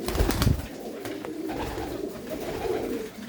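Pigeons coo steadily in a blue-pigeon loft, a dense low burbling that runs throughout, with a louder burst of fluttering or bustle near the start.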